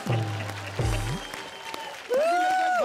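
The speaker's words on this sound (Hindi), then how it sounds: "तो हम तो तालियों से ही काम चला लेते हैं तालियां" Applause from a comedy show's studio audience, with a sustained tonal swell layered over it in the last second, while the clapping stays steady and moderately loud.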